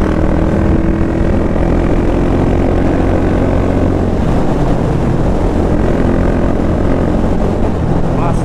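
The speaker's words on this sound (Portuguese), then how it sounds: "esse motor aqui, mano, é da minha CB300" A Honda CB300 motorcycle engine runs loud and close, holding a constant droning hum with a strong steady pitch throughout and no pauses.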